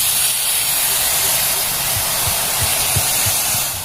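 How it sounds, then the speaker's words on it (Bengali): Jaggery cooks in a wok with a loud, steady hiss and bubbling sizzle. Soft low pops break through now and then. "গুড়টাকে কিছুক্ষণ এইভাবে পাক করতে থাকবো, যাতে আঠালো ভাবটা ভালোভাবে হয়।"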